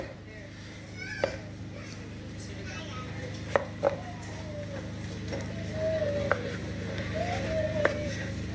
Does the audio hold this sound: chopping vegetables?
yes